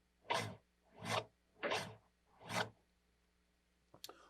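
A DJ scratches a record on a turntable in four evenly spaced, rhythmic back-and-forth strokes, close and fairly loud, followed by a brief clicky flick at the end.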